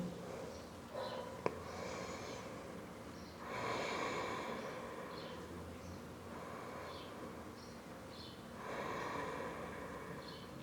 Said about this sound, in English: Just calming the breath down for 2 more inhales and exhales.